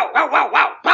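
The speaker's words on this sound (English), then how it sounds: "You're not getting rid of my dog, Blondie." A dog barks in a quick series of three or four loud, close, harsh barks within a second, with no talking over them.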